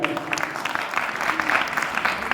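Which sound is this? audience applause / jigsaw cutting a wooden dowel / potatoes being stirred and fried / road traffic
audience applause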